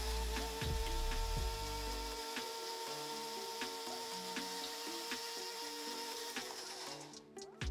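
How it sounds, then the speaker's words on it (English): A Nutribullet blender purees coconut chutney ingredients with water in a steady, close whirring drone that runs unbroken for several seconds, then cuts out near the end. "So let's get into blending."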